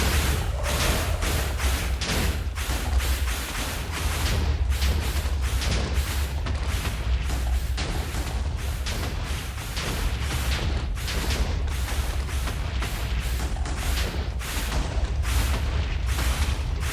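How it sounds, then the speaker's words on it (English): Wither explosions in modded Minecraft (FTB Infinity Evolved) boom again and again in a dense, relentless barrage, loud and close, overlapping blasts filling the whole stretch without a break. "His explosion still does actually hurt me"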